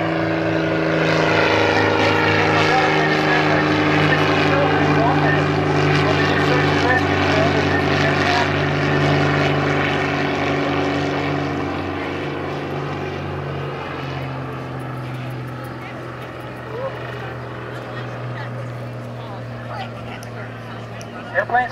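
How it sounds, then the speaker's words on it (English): A Helio Courier STOL propeller airplane drones loudly and steadily close by, flying low, its engine tone slowly shifting and easing off as it passes overhead. "Airplane's coming back to land."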